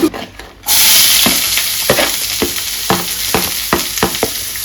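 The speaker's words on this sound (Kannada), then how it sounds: "ಬೇಯಿಸಿ ಎಣ್ಣೆ ಬಿಸಿ ಆಯಿತು, ನಾವೀಗ ಒಂದು ಒಗ್ಗರಣೆ ಫಸ್ಟ್ ಒಗ್ಗರಣೆ ಕೊಡುವ" Curry leaves dropped into hot oil for tempering burst into a loud, close sizzle after a brief quiet start, followed by a steady hiss punctuated by rhythmic stirring scrapes, with no talk.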